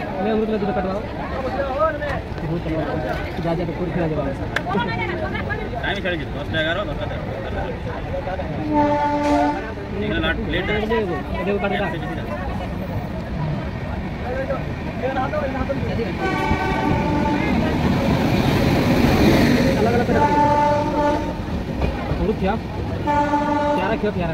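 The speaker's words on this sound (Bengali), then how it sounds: "আমাদের ট্রেন ছেড়ে দিল দুর্গাপুর স্টেশন" A train horn toots a few times while an express train rumbles and clatters into motion departing Durgapur station, with voices chatting throughout.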